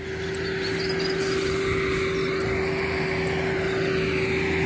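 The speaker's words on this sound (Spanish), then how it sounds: "el tractor, el 100 HP Farmal, chapodando en el campo agrícola" A Case Farmall 100 HP tractor pulling a mower through crop stubble in a field in El Salvador gives a steady, loud engine drone with a firm low hum and a rushing cutting noise over it, continuous throughout.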